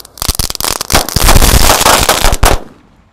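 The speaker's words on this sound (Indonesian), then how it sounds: "Ini ada mercon baru yang pertama kali saya beli adalah sunflower. Kita nyalakan 1 pak sekaligus guys." A whole pack of sunflower firecrackers goes off at once: rapid, very loud cracking bangs merge into a dense crackling roar for about two seconds, then cut off abruptly and fade.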